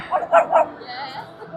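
Excited dogs at a busy outdoor gathering in London give two or three quick, close barks and yips, followed by softer whining and background crowd noise.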